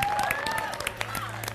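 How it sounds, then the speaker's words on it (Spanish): Applause from a studio audience at a television singing-talent segment, with brief scattered clapping and a few cheers under faint talk and a sustained tone. "Así que este aplauso enorme."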